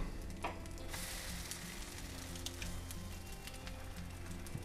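French toast sizzling steadily in a frying pan, a close, quiet crackle with occasional brief pops and a faint low hum beneath, no talking.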